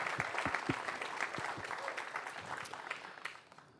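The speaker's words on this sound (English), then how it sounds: "Let's give them a round of applause, shall we?" A church congregation claps in steady, moderately distant applause that holds for several seconds and slowly thins toward the end.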